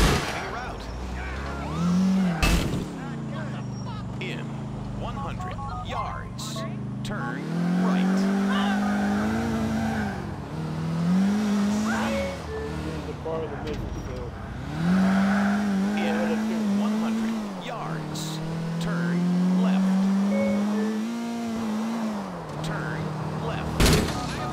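A car driving in GTA 4, its engine revving up and down in repeated surges with gear changes and occasional tire noise, moderately loud, with voices talking over parts of it.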